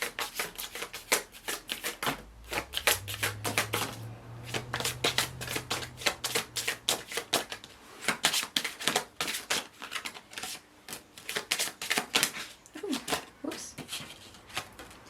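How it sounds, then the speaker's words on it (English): A deck of tarot cards being shuffled by hand, with rapid, close riffling and flicking bursts in an irregular rhythm, a voice talking briefly underneath. "here's my shuffling"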